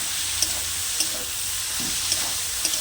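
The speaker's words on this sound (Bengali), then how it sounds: "আমি আজকে বেগুনটাই ভাজা করবো" Eggplant frying in oil in a pan gives a steady, soft sizzle with faint scraping stirs at regular intervals, fairly quiet and with no voices.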